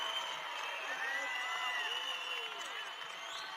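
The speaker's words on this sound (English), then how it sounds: "This is a very, very rambunctious and beautiful crowd" A large political rally crowd cheering and whooping in a continuous distant roar, with scattered shouts rising over the steady din.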